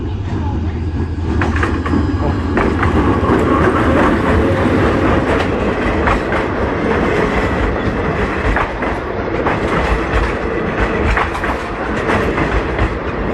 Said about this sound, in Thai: รถไฟมาพอดีเลยนะครับ